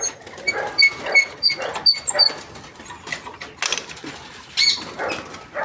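Several bird calls and chirps ring out in short bursts, fairly close, some repeated notes, over a soft rustling outdoor background in the Sundarbans forest with no talking.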